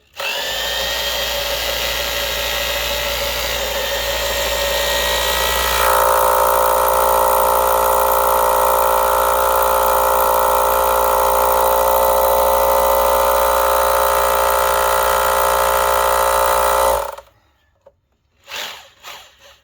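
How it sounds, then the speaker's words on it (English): A power drill with a masonry bit whines steadily for a long stretch while drilling into wood and concrete, its pitch dropping partway as the bit bites in, then cuts off, leaving a few short clicks. "It's hard to drill in the wood and the concrete because this is a mason type bit."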